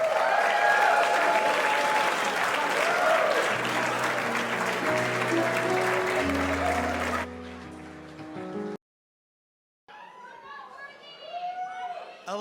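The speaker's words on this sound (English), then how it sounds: "One more time, everyone, a nice round of applause for John." Wedding reception guests clap loudly with chatter mixed in for about seven seconds, then the applause breaks off, a short silence follows, and a voice begins speaking.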